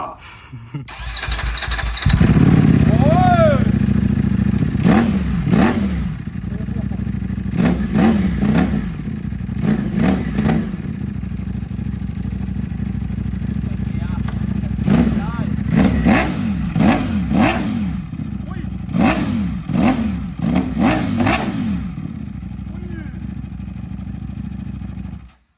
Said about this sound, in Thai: ไม่ใช่เสียงฝาร้องครับ อันนี้คือคือเสียงท่อ